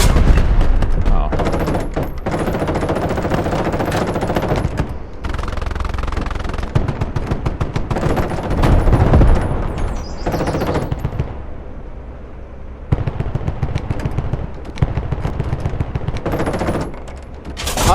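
In the tank battle game Call to Arms: Panzer Elite, machine guns rattle in loud, sustained rapid bursts with short gaps, mixed with booming impacts and rumbling battle noise, one longer lull midway.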